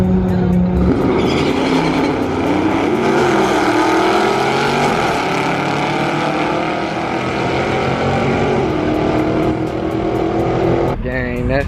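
Mopar car sliding at a drag strip sliding event, a loud close engine roar with rising and falling revs and tire squeal, running continuously over background voices.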